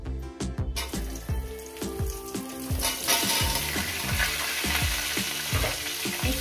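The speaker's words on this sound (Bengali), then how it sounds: "এবার ওই তেলে দিয়ে দেবো এঁচোড়গুলো।" Pieces of green jackfruit hit hot oil in a pan, starting with clattering drops and stirring before a loud, continuous sizzle and crackle takes over, close and steady.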